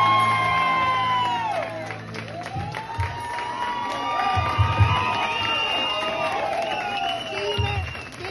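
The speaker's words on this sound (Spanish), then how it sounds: "Aplausos para el señor Rudy Lecano Nieto" Concert audience applauds and cheers loudly, with whoops and shouts rising over steady clapping, a dense crowd roar that swells midway and tapers slightly toward the end.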